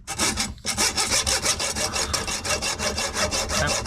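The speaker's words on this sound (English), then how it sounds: "So I'm going to try and cut a slot first, because these screws are actually captive into the actual distributor cap." A small saw or file cuts back and forth with a steady, rapid rasping rhythm, about twenty strokes after a brief pause. It is slotting captive screws on the distributor cap of a Jaguar E-Type 2+2 under restoration, close and alone.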